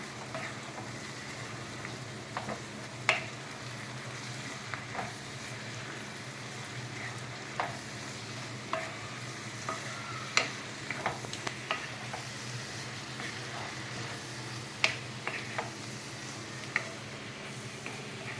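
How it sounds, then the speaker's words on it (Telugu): Turmeric being stirred into an onion and egg curry masala with green chillies, garlic, coconut and coriander powder in a pan, giving a steady soft sizzle broken by occasional scraping clicks of the spoon, with no talking. "పసుపు వేసి కలుపుకుందామండి"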